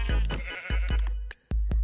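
Sheep bleating in the Minecraft video game, several short nasal baa calls in quick succession, close and loud, with a brief silent gap before the final few.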